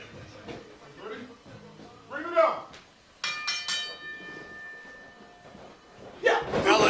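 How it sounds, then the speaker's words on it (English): A wrestling ring bell rings out at a four-way match at a Superkick'd Unlisted show, striking once with a bright sustained tone that lingers a couple of seconds between stretches of commentary, followed by a burst of crowd noise. "Bell is rung now,"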